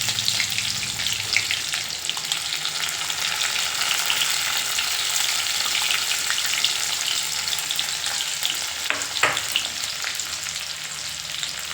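Plenty of chopped garlic sizzles steadily in hot oil in a pan for dhaba-style lasuni methi, a dense close frying hiss with a brief stir partway through.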